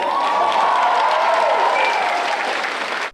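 Audience applause at a concert in Rivne, a dense, continuous wash of clapping from a large crowd, steady and loud for about three seconds before cutting off, with faint voices and cheers underneath.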